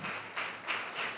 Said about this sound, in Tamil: நல்ல கைத்தட்டி ஆண்டவருக்கு நன்றி சொல்லுவோம்.